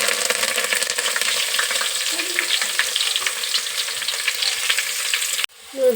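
Mustard seeds, crushed garlic and curry leaves crackle and sizzle steadily in hot oil for a village-style holige saaru, loud and continuous with no talk, cutting off abruptly near the end.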